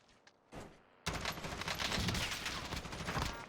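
M4A1 assault rifle fire in Call of Duty Warzone: a couple of faint shots and a short burst, then a loud sustained stream of rapid automatic gunfire.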